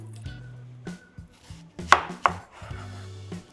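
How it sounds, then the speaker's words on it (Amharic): Onion chopped with a knife on a cutting board while macaroni is being prepared, giving a series of sharp, separate board knocks with gaps between them, close and fairly quiet. "የመጀመሪያ ግብአታችን የምናስተካክለው ሽንኩርት መክተፍ ነው።"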